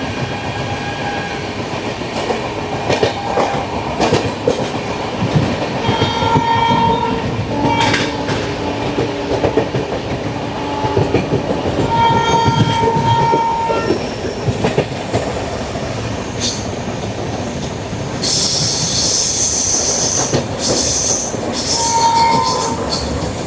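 Palnadu SF Express with new LHB coaches, 12748 Vikarabad to Guntur, runs through Challapalli station without stopping: a loud, steady rumble of wheels on rails with squealing tones and a hissing burst near the end, with no voices.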